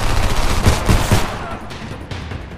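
Gunfire in the video game Homefront, a quick burst of loud rapid shots at close range that fades into lingering echoes.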